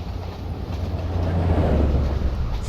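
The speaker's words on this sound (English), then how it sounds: "It's another long passenger train." A long passenger train runs at speed in Train Simulator Classic on an Indian route, giving a loud, continuous low rumble with a faint clickety-clack of wheels on rails and no talking.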